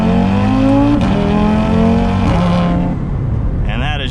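A built big-turbo 800 HP Audi RS3 five-cylinder engine running on an ethanol blend, revving loud and close at half throttle with a rising droning growl that eases off, followed by a whooshing turbo sound near the end.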